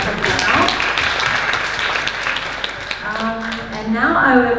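Audience applause for a lecture panel, a steady broadband patter of many hands clapping in a hall, with voices mixing in toward the end.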